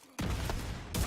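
Nemesis sniper rifle firing in the video game Division 2, two sharp, booming shots a little under a second apart, each with a heavy low-end blast and short tail, alone without talk.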